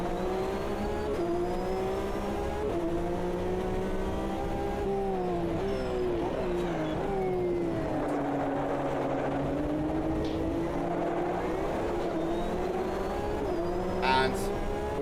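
Race cars racing in a video game on a wet track, engines droning continuously with rising and falling revs as several cars run close together, a steady loud layer under occasional talk.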